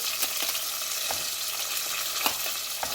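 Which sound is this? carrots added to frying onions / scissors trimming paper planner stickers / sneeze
carrots added to frying onions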